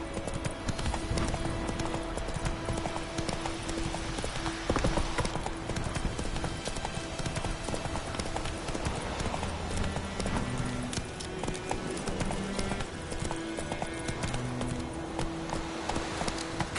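Horse hooves clip-clopping at a steady gallop in The Witcher 3 video game, a continuous rhythmic beat under game music, with a brief whinny and a rider's voice now and then.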